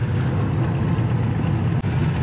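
A Harley-Davidson motorcycle engine runs loud and steady at a dealership, a dense low rumble with a constant throb and one brief dip near the end.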